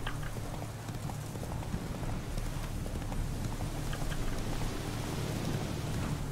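Horse hooves clopping in a steady rhythm while riding across open countryside in The Witcher 3: Wild Hunt, Hearts of Stone, under a constant rain-like wash of ambience, moderately loud with no voices.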